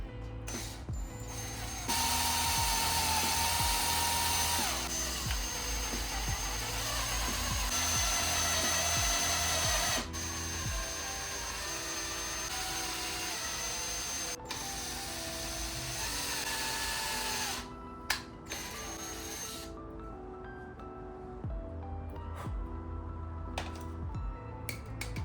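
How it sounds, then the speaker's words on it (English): A power drill bores a hole with a large drill bit while building a custom camper bed, a loud continuous whirring grind with a few brief pauses and load changes, no talk. "I'm gonna go straight for the big drill bit instead of doing a little one and then a big one"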